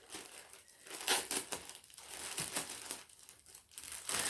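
Plastic packaging around an Adidas Ivy Park top crinkles and rustles steadily as it is pulled open, close and continuous, with louder crackling surges and no speech.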